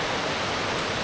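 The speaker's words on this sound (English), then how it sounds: "So with these beautiful waterfalls" A dense, steady rush of falling water from waterfalls in the Lake District fells, heard close and continuous with no voices.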